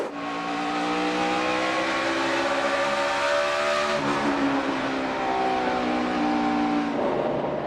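NASCAR Sprint Cup race cars roar around an asphalt night-race track, several engines overlapping in a loud, continuous drone with pitch shifts as cars pass and change speed.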